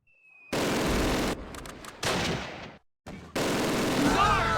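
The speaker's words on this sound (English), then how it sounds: "They're using the mortar." Mortar blasts and gunfire in the Close Combat war game: loud broadband bursts of explosions and shots arrive in several separated clusters with brief gaps between them, and a voice briefly talks over the action.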